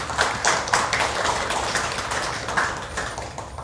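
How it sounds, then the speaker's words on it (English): An audience at a book launch applauds, a dense, even patter of many hands clapping for a few seconds. "Let's give a round of applause for that."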